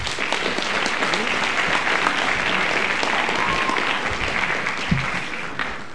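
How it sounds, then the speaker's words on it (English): Steady applause from a school band concert audience at Wantagh High School's winter concert, a dense, continuous wash of clapping held at even loudness throughout, with a brief louder thump near the end. "A round of applause, please."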